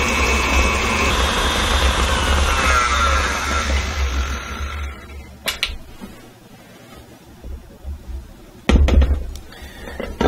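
Butter being creamed with sugar in a bowl by an electric mixer, a steady loud whirring drone for about five seconds, then quieter with a few sharp clinks and knocks against the bowl.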